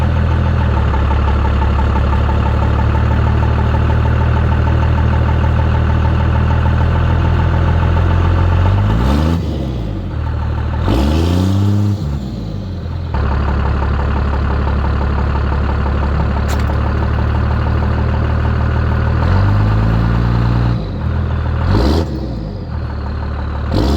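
A 1st Gen Cummins diesel truck engine rumbles loudly and steadily nearby, with several revving surges and dips as the truck strains to drive off a jack.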